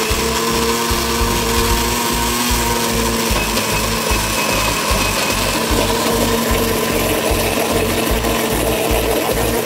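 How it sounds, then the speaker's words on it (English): Cucumber, raisins, honey and water are blended together, the blender motor running loud and steady near the microphone with a rapid churning pulse throughout. "Blender time!"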